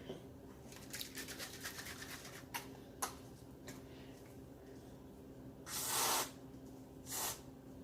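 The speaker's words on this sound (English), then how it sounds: "A spritz of sugar-free whipped cream." Sugar-free whipped cream sprays from a can in two short hissing bursts near the end, close and moderately loud, after quieter clicks and small kitchen handling sounds.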